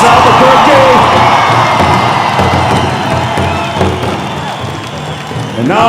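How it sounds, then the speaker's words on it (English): A large crowd at the Gathering of Nations powwow in Albuquerque breaks into loud applause, cheering and whoops, a dense continuous roar with high shouts rising over it. "How about a round of applause, Albuquerque?"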